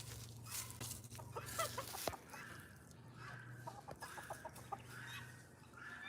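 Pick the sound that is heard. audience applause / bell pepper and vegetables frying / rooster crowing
rooster crowing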